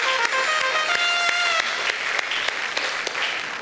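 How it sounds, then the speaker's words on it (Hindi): Strong, continuous applause from a live audience at a Hindi comedy poetry show, with dense overlapping claps and no voices on top. "जोरदार तालियों के साथ।"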